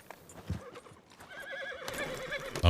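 A horse whinnies while its hooves clip-clop close by, with scattered shuffling noises and a loud thump at the very end.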